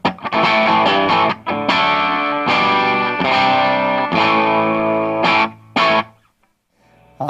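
An electric guitar played hard through a Little Walter Hipster 10-watt tube amp, chords ringing with slight overdrive grit, loud and close, with a few brief pauses between strummed phrases.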